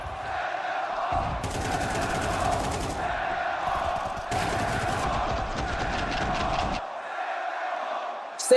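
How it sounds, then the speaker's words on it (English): An esports arena crowd at a Counter-Strike Major semifinal (BLAST.tv Austin Major 2025) chanting in loud rhythmic bursts that rise and fall several times, a dense roar of many voices filling the space. "Send them home ang sigaw ng crowd."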